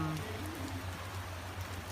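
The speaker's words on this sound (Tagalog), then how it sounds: "Okay, dito umuulan." Steady rain falls in a continuous hiss during an outdoor motorcycle trip in Thailand, with a low engine or road rumble underneath and no voices.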